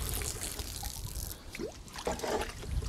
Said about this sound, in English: So we have our water butt and watering can.